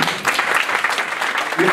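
Audience applause at an employment forum event, a dense, continuous wash of many hands clapping, close and loud through the short stretch.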